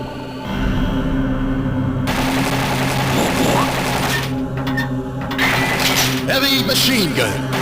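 A heavy machine gun fires in rapid, dense, rattling bursts in the arcade game Metal Slug X, with explosions and game effects mixed in and voices over the loud, continuous action.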